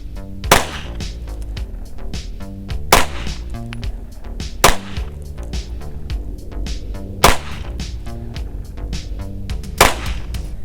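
Handgun shots fired at 10 yards during a concealed carry drill, five sharp loud reports spaced a couple of seconds apart outdoors, with no one speaking between them.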